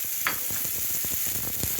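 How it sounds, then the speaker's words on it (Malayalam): Grated carrot, onion and green chilli frying in hot oil, giving a steady close sizzle with scattered pops and stirring scrapes throughout. "ഇത് നമുക്കിതെല്ലാം കൂടെ ഒന്നിച്ചിട്ട് ഒന്നിച്ചിട്ട് നമുക്ക് എണ്ണയ്ക്കകത്തിട്ട്"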